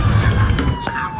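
A brief ambulance siren sound effect wails over a low background rumble, loud and close, lasting only a moment.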